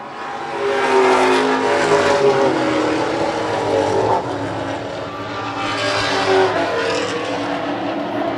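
Race cars in a heat race at the Coastal 200 roar past in a loud, continuous drone, with engines rising and falling as the pack sweeps by the listener, and no voices over it.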